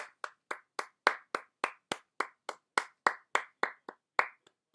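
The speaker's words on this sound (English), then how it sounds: "That was a good clap" Single pair of hands claps in a steady rhythm, about fifteen crisp, close claps with short decays and silence between, slowing and fading to a couple of faint claps at the end.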